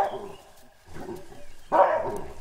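Three loud, harsh barking calls from an alpha male baboon, the last one the strongest, rising out of a quiet outdoor background in an African swamp.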